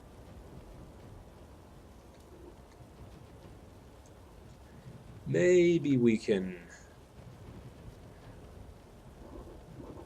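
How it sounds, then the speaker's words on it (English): Rain falls steadily with a low rumble of thunder in the fantasy role-playing game Divinity Original Sin 2, a soft continuous wash as someone speaks briefly in the middle. "So even more rain now."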